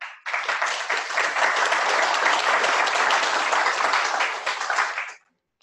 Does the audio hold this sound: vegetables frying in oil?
no